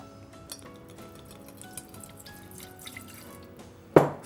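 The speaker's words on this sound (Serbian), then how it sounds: "U ovu šerpu gde će biti pečurke stavljam sirće" Vinegar is poured into a cooking pot meant for mushrooms, heard as a thin dripping, trickling stream with small splashes, then one sharp louder clatter at the end.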